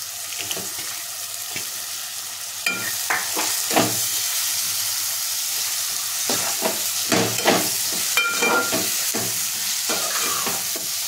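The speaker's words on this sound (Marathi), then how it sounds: "ह्याच्यामध्ये आपल्याला लगेचच कलेजी पेठा आपण स्वच्छ धुवून घेतलेले आहेत ते टाकून घ्यायचे" Washed goat liver and offal tipped into hot frying masala, a steady close sizzle with scraping stirs and wet clatters recurring through the sizzle, no voices.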